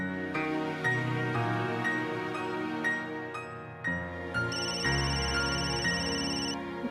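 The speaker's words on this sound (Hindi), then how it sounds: "आपका फोन आया है" A telephone rings in a Marathi TV serial scene, a steady repeating electronic ringtone with layered tones that carries on throughout, loud and close over background music.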